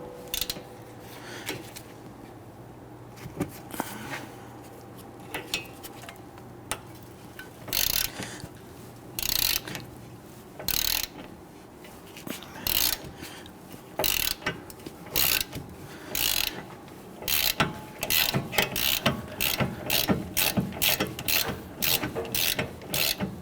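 A ratchet with a 15mm socket loosens brake caliper bracket bolts on a 2010-2019 Ford Taurus, with sparse clicks at first, then increasingly rapid bursts of close, sharp ratcheting.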